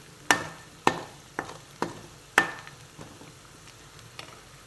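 Spicy prawn pickle is stirred in a pan with a spoon, giving sharp scraping knocks at uneven intervals, about eight strokes that fade gradually over a faint sizzle, close and alone.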